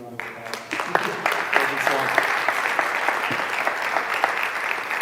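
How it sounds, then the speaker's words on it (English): Audience applause at a community partnership event for a school district, a sustained, dense clapping from a sizable crowd, starting quieter and quickly swelling, with scattered voices mixed in. "let's actually do a few rounds of applause"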